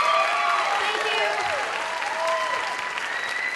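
Audience applause after a performance at a talent show final: dense, steady clapping from a large crowd for several seconds, with scattered whistles and cheers riding over it.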